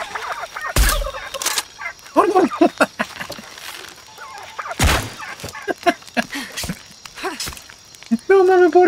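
Turkeys gobble in Shadow of the Tomb Raider, several short bursts of warbling calls spread through the scene, with someone talking and reacting loudly over them and a brief sharp impact near the start.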